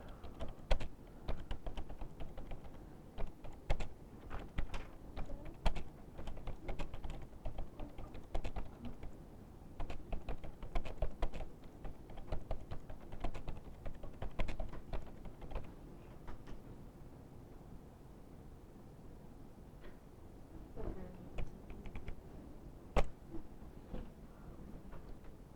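Rapid irregular keystrokes on a computer keyboard, a long run of close clattering taps with brief lulls, thinning out toward the end, no speech.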